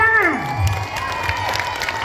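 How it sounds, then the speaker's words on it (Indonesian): Students clapping and cheering at a school orientation day, a lively crowd of young voices whooping over applause, with a falling tone at the start and a teacher's voice briefly audible. "Oke, tepuk tangan."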